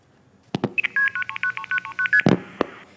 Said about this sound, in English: if you placed a call, a long-distance call, you'd hear something like this